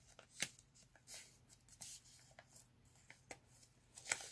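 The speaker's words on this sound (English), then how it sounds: "We're going to fold in half." A sheet of paper is folded in half, giving soft, quiet crinkles and brief rustling scrapes scattered across a few seconds, with no talking.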